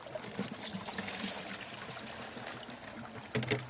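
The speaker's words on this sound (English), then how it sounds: "And then I'll run a little more water, and you can watch the sluice." Water running through a gold prospecting sluice, a steady close trickling and splashing rush that goes on throughout with a few louder splashes near the end.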